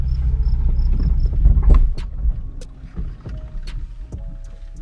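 A manual Nissan 350Z pulling away on a slight incline: a low, throbbing engine rumble that swells briefly and then settles lower, with scattered clicks and knocks from inside the cabin, close and fairly quiet.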